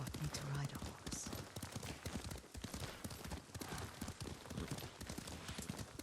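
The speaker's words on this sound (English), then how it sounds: "Lord Sakai taught me to ride a horse" Horse hooves clip-clop steadily along a path in the Ghost of Tsushima video game, a continuous, evenly paced rhythm of close hoofbeats lasting several seconds.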